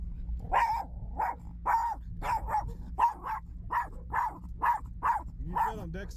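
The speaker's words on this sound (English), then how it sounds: "Got some dogs right here. A lot of wild dogs out in this area." Wild dogs barking nearby outdoors, a steady series of about a dozen sharp, evenly spaced barks with a short whimpering yip near the end.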